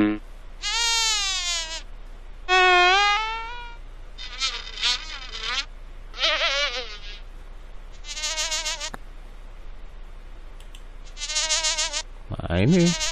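Buzzing bee sounds from the Dora the Explorer game Dora's First Adventure, several separate harmonic buzzes with wavering pitch, each about a second long, repeated one after another with short gaps and faint background noise between them.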